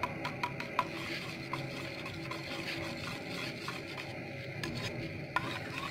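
Melted Vaseline lip balm mixed with pink lipstick is stirred while cooking in a small pan, a steady soft scraping and rubbing with faint sizzle and repeated light taps of the utensil against the pan, no voices.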